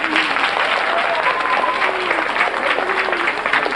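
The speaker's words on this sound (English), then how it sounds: "let's clap for her really loud" An audience bursts into loud, sustained applause, dense clapping from many hands filling the room steadily with no pauses, close and strong throughout.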